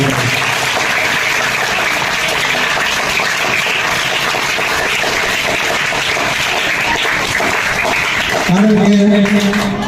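Sustained clapping from a crowd of staff, families and students at a school welcome ceremony before a puppet show, dense and steady throughout, with a low voice or hum rising near the end.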